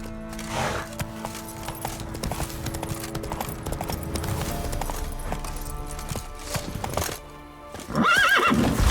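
Roach, a horse in The Witcher 3 video game, galloping with rapid rhythmic hoof clops over game music and ambience, then letting out a loud whinny at the end.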